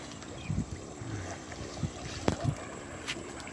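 Water buffalo playing and bathing in a village canal: gentle sloshing and splashing with occasional knocks and thumps, under steady outdoor wind noise. No talking.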